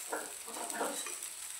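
Thalipeeth sizzles softly in oil in a pan, a faint steady frying hiss with gentle stirring or scraping pulses, quiet and close.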